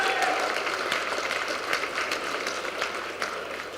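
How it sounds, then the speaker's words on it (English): Steady applause from an audience at a judicial reception, a dense wash of clapping that holds at an even level throughout with no one speaking over it. "Would you mind giving Judge Ken Wright a great round of applause?"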